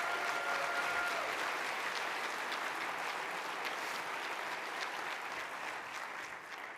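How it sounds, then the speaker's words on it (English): Crowd at the Oakland County State of the County address clapping for county employees, a dense, even wash of applause from a large hall that holds steady and fades slightly at the close. "can we give them all a big round of applause?"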